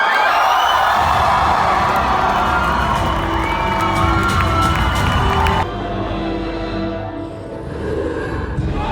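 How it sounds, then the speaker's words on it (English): A large crowd cheers loudly as Mahershala Ali is introduced on stage, roaring whoops and shouts with some clapping that hold steady, then drop to a lower, continuing cheer partway through. "listen to that crowd"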